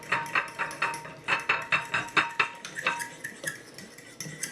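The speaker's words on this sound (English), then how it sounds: "I'm just going to add some whipping cream, some heavy whipping cream. Just stir that in." Heavy whipping cream being stirred into potato soup in a pot, a close run of rhythmic metallic clinks and scrapes as a utensil knocks the pot's sides, fading toward the end, with no talking.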